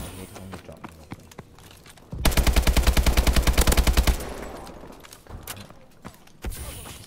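Loud burst of automatic AK rifle fire in a Call of Duty: Advanced Warfare match, a rapid two-second rattle of shots standing out from quieter game noise and scattered footsteps.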